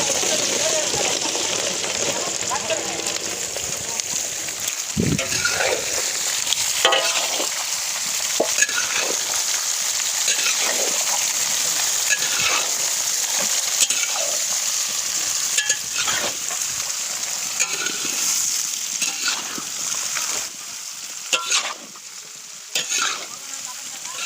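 Raw mango pieces fry in hot oil with mustard seeds for a raw mango pickle, giving a steady loud sizzle with repeated scraping stir strokes throughout and no talking.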